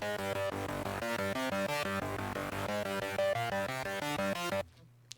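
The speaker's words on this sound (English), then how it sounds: "This is just the lead sound I made. It's actually called Cyberpunk. I did it in Serum here." A bright synth lead patch built in Serum from an init patch plays a quick, busy melodic line of short repeated notes over a steady pulse, fairly quiet and continuous, then stops abruptly near the end.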